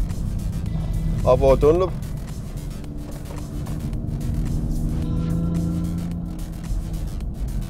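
Toyota Supra racing flat out around the Le Mans circuit, a continuous loud engine drone and road rumble filling the whole clip, with someone talking over it and a brief rising whine partway through.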